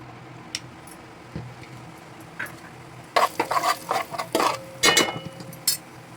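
Bay leaf and turmeric hit hot oil in a pan while cooking crab curry, giving a low steady sizzle that turns into a run of loud scraping and clinking stir strokes in the second half.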